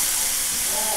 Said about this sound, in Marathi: कांदा जसा आपण गुलाबी रंगापर्यंत होईपर्यंत परतून घ्यायचा